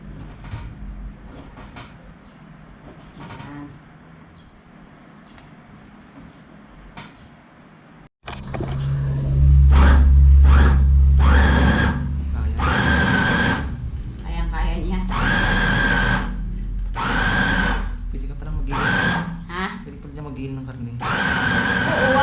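An electric food grinder runs loudly for about fourteen seconds in a home kitchen during lumpia preparation, starting abruptly after a quieter stretch of talk, with a steady motor whine and pulsing chopping bursts.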